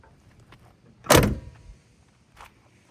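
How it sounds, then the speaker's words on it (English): Door of a 1959 Cadillac shutting with a single solid close thump, followed by a fainter click a second later, near and with no talk. "So I'll show you guys a little opening and shutting of the door test."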